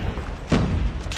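A single heavy grenade explosion in Call of Duty lands as a sudden broadband thud and boom about midway, fading into rumbling game ambience.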